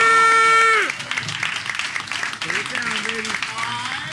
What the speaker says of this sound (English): a round of applause for Random Thought